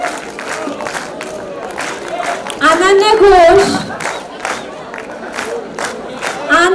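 Students cheer, shout and clap at a 2022 convocation ceremony, a loud crowd roar that swells in the middle while a voice reads out names over it.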